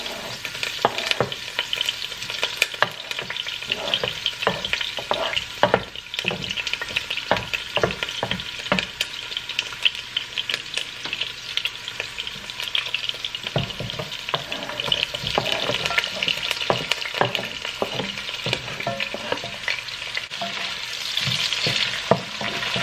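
Stuffing of pumpkin and callaloo sizzles and crackles steadily in hot oil, with scattered stirring clatters throughout and a rising hiss toward the end; no voices.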